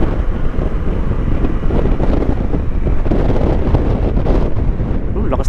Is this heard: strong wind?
yes